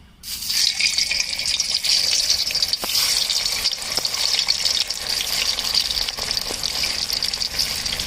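Boiled potatoes fry in hot oil in a pan, giving a steady, loud, dense sizzle that starts abruptly and continues without pause, with a few faint clicks and no voices.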